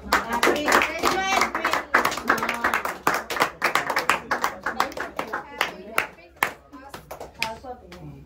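Scattered hand claps at a family Christmas celebration at home, brief irregular claps mixed in among several people talking and a voice nearby.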